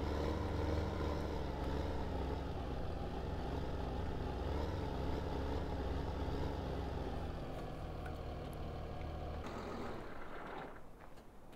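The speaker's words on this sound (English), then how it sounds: "Just go and park the tractor up." A tractor engine in the video game Farming Simulator 2015 drones steadily at a constant pitch, loud and continuous, then shifts and fades toward the end as the vehicle is parked in a shed.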